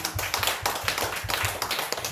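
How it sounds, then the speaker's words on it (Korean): A church congregation at a Sunday afternoon worship service claps together in a steady, rhythmic beat, loud and close, filling the room with repeated sharp hand claps. "박수로 하나님께."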